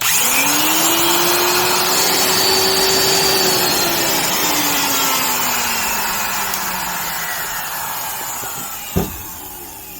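An old Rockwell 4684 D-handle commercial router runs loud and steady with worn, noisy bearings, its high whine slowly sagging in pitch as it spins down, ending with a single sharp clunk.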